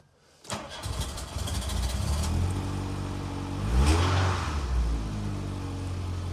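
An MK2 Volkswagen Golf engine cranks and catches, then settles into a steady idle with a brief rise in revs midway; close and fairly loud, no talking. The car has a flashing oil pressure warning light.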